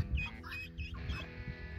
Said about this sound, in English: the chee chee chee chee chee chee chee